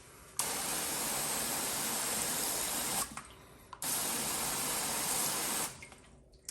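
Water sprayed onto a car during a wash after a paste wax application, a steady hissing rush in two long bursts with a brief pause between, close and fairly even in level, no voices.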